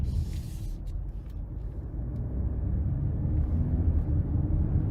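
A 2023 Cadillac XT5 with a 2.0 turbo four-cylinder driving in tour mode, a steady low cabin rumble of engine and road noise that swells slightly, with no talking.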